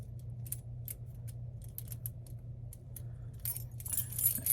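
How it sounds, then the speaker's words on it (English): A handful of assorted old collected keys jangle and clink in irregular bursts, close and fairly crisp, over a low steady hum, growing busier toward the end. "I used to collect all kinds of keys when I'd find them. So I got all kinds of keys here."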